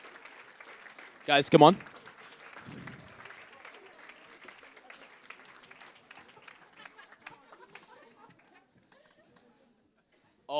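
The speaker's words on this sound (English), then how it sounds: "a round of applause, please" Conference audience breaks into a short burst of applause near the start, then settles as a presenter keeps talking over a hall background.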